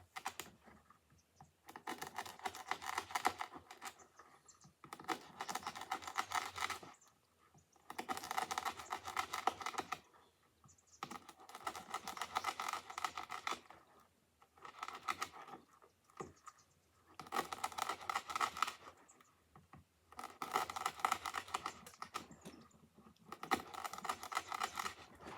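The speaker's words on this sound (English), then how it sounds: "And I am cutting into that board fairly hard to get through it." A knife slicing through nylon rope into a wooden board, repeated in steady, evenly spaced cutting strokes of roughly two seconds each, with short quiet gaps between, close and moderately loud with no talking.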